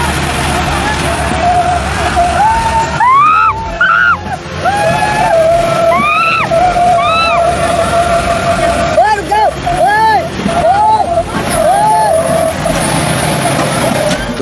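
A Mahindra Arjun 605 tractor and a Thar 4x4 strain against each other in a pulling contest, with loud continuous engine roar, repeated rising revs and squealing tones, and a crowd shouting throughout.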